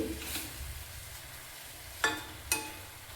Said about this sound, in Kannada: 1 ನಿಮಿಷಗಳ ಕಾಲ ಇದು ಮಸಾಲೆ ಜೊತೆಗೆ ಚೆನ್ನಾಗಿ ಫ್ರೈ ಆಗಲಿ